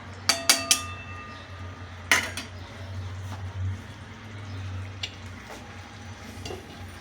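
A metal lid clinks sharply onto a cooking pot of capsicum jhal with green chillies, a few quick knocks followed by a softer clatter, with a faint simmer underneath in a quiet kitchen.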